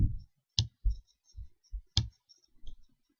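Several crisp computer mouse clicks in Excel, spaced irregularly with quiet gaps between them, close and sharp, alongside a few soft low thumps.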